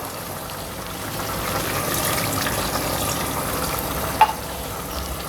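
Water from a mixer jar pours into a spicy country chicken curry cooking in a pan, giving a steady, close sizzle with a gentle liquid rush and no one talking.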